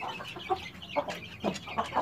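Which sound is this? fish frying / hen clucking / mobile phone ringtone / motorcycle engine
hen clucking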